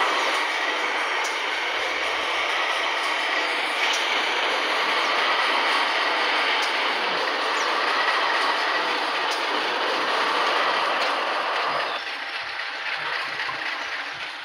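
A CC201 diesel locomotive in vintage PJKA livery hauling a train between stations in Indonesia, a loud, sustained rushing roar of wheels on rails with faint clicks, easing slightly near the end, no speech.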